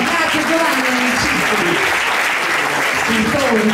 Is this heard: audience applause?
yes